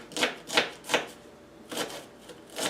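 A knife chops small onions on a board in several crisp, separate strokes: three quick ones, a pause, then a few more. They are close and moderately loud, with no voices.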